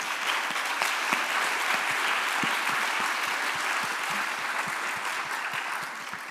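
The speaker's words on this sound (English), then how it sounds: "maybe a round of applause to everyone" Warm applause from a conference audience, many hands clapping steadily with a few sharper individual claps standing out, fading slightly toward the end.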